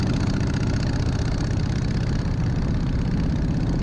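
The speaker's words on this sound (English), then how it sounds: "riding a freshly built Harley Davidson" A freshly custom-built Harley Davidson hardtail motorcycle engine runs on a wet road, a loud, close, continuous low rumble with a steady throbbing beat and no speech.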